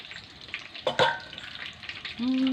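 Battered eggplant deep-frying in hot oil, a steady close crackling sizzle with a brief louder burst partway through, joined by a short tonal sound near the end.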